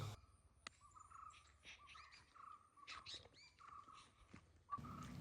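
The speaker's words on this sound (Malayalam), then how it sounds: "രാവിലെ ആയതുകൊണ്ട് കിളികളുടെ ശബ്ദം കേൾക്കാം." Morning birds chirp around a moss-covered pond beside banana plantations in rural Kerala, with scattered faint calls and tweets repeating at a distance over a quiet, low outdoor background.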